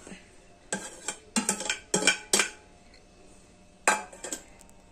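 Grated coconut stirred into grated cassava in a mixing bowl for a cassava cake, heard as a spoon clinking and scraping against the bowl in several close, irregular bursts separated by short pauses, with no voices.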